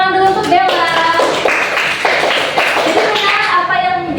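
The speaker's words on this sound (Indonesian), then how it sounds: "kita beri tepuk tangan dulu untuk Bella" A classroom of students claps for a classmate during a microteaching lesson, with lively, dense overlapping hand clapping mixed with children's voices and chatter throughout.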